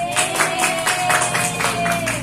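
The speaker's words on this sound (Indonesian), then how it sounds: "Beri tepuk tangan buat." Children in a religious studies class clap together for a classmate, a rhythmic burst of claps at a steady beat over a constant background hum.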